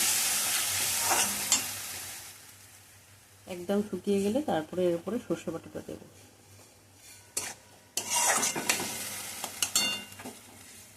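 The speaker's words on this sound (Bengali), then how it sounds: "এটাও নাড়াচাড়া করে একটু ভাজা ভাজা করব।" Tomato, green chili and ginger paste stirred and frying in a pan, with bursts of scraping and sizzling between stretches of someone talking.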